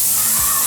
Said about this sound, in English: let's use this really cool construction sprayer we have